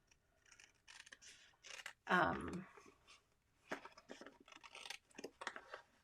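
Scissors cutting paper in a few quick snips, close and fairly loud, with a longer cut in the middle while someone talks intermittently around the cuts.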